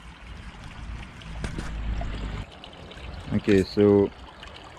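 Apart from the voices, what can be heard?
pond waterfall flowing water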